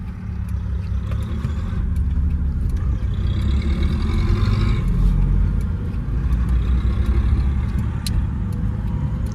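A taxi car, an Opel Astra or Daewoo Nexia, being driven through town, with a steady loud engine drone from inside the cabin that swells around mid-clip as the gears are shifted, with no talking.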